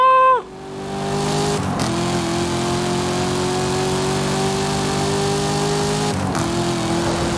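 Cadillac CT5-V Blackwing with a 6.16-litre V8 rated at 1000 hp in Forza Horizon 5: a loud, steady engine drone held at high revs, broken by two brief gear-shift dips before the note climbs again.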